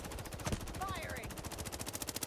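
Rapid automatic gunfire rattles steadily throughout a match of the video game Highguard, a dense, even stream of shots with a brief voice cutting in partway.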